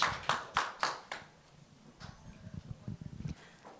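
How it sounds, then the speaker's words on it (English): Audience at an interior design awards finale gives a brief round of applause, a few sharp distinct claps at first, then softer scattered clapping with some murmured talk. "another round of applause for Phu"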